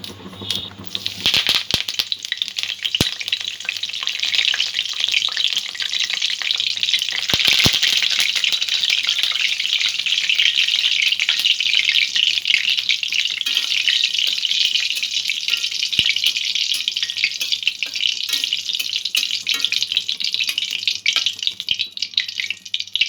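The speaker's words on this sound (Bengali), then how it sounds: "এই কারি পাতাটা আমি ভেজে নেব।" Curry leaves fry in hot oil with a steady, loud crackling sizzle that holds throughout, broken by a few sharp pops and rattles early on; no one speaks.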